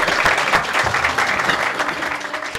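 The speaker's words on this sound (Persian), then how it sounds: "تشویق بفرمایید جانانه و شایسته لطفا." Warm audience applause at a commemoration for a journalism professor, a loud continuous burst of many hands clapping that fills the room without pause.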